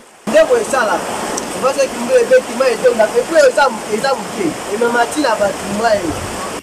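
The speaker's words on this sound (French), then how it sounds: "cette route est envahie par les eaux. On se croirait en face d'une rivière." Floodwater from overflowing drainage rushes across a flooded road in the Kassapa neighbourhood. The steady, loud broadband roar runs continuously beneath a person's voice talking throughout.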